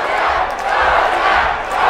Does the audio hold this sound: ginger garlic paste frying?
no